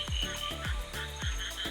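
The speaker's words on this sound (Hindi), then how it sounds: "और ये आपको शायद मेंढक की आवाज़ है ये" Frogs croak in a steady, repeating rhythm of deep pulses, about three calls close by, over a constant chorus of insects or distant frogs, in rainy Wayanad, Kerala.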